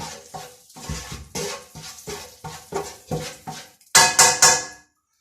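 A banana spice dish is mixed in a pan, giving a close series of repeated scraping stirs and clinks of utensil against cookware, ending with a few louder strokes and then silence.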